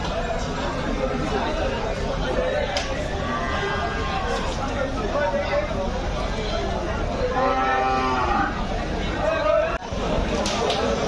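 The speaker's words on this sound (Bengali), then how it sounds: "দেখুন বিশাল বড় বড় সাইজের গরু অনেকগুলো গরু আছে এখানে" Large cattle at a busy cattle market ahead of Eid sacrifice, with a few drawn-out moos rising out of a dense hubbub of crowd chatter.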